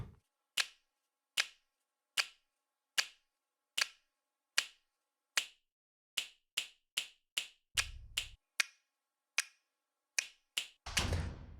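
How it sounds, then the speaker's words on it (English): Trailer music intro percussion built from clicks, claps and stick hits: dry, isolated sharp strikes in a sparse, uneven pulse, growing quicker toward the end with a couple of heavier, fuller hits, all alone and fairly quiet. "Now, clicks, claps, sticks, these are going to be your intro tools, and you can hear them here."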